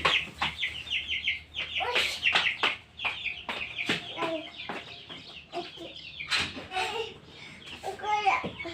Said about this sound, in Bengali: মুরগি আসছে, মুরগি তাড়াই দাও